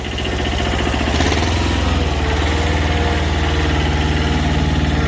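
A two-cylinder Kubota diesel engine runs loud and close on a TCM 343 small wheel loader, rumbling steadily and picking up slightly in revs early on before holding a constant drone.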